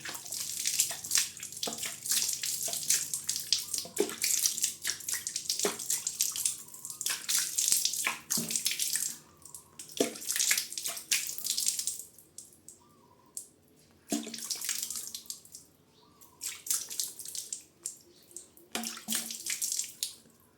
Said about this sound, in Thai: เมื่อเสร็จแล้วก็ใช้น้ำสะอาด